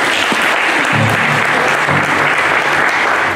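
A church congregation claps for volunteers who put up a shade, dense and continuous applause from many hands throughout, close and loud, with a few faint voices underneath.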